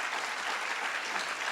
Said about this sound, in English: Please give them one more round of applause for the amazing work they do.